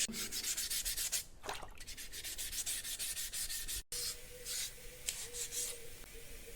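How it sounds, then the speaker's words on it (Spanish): Steady scratchy rubbing of 400-grit sandpaper by hand on a carved stone sculpture, repeated back-and-forth strokes close up, with a brief pause midway. "cogemos un trozo de lija de 400"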